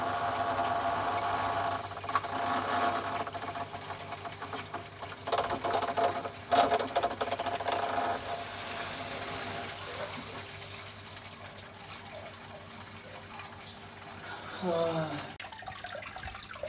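A canister aquarium filter pump starting up after being filled with water, with a steady hum and rushing, gurgling flow that swells and settles, under occasional quiet talk.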